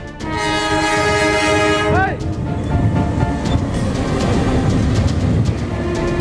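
A loud train horn blares for about two seconds, then the heavy rumble and clatter of a train passing close by at a level crossing on a national road.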